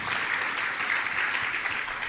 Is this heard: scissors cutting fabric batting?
no